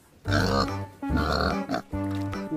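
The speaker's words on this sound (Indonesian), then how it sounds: "ada babi" A pig grunts and oinks in three loud, close, drawn-out bursts with short gaps between them, and no other sound competes.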